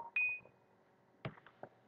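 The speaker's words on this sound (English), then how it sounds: "That's my phone going off." A mobile phone going off indoors, a short bright electronic tone followed by a few brief beeps and clicks, fairly close in an otherwise quiet room.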